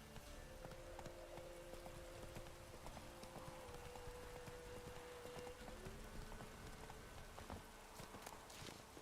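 Roach, a horse in The Witcher 3, gallops with faint, rapid hoof clip-clops. The hoofbeats are steady and continuous over a quiet hiss of rain-like ambience, with no talking.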